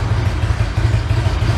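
A Harley-Davidson motorcycle engine idles steadily in a service shop during an oil flush, a loud, close, continuous low throb with a lumpy pulsing rhythm and no voices over it.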